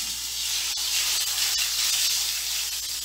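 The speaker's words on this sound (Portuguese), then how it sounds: "agora eu vou fritar a linguiça" Sausage (linguiça) frying in a frying pan, giving a steady, dense hiss and sizzle that holds evenly close by, with a couple of faint clicks and no talking.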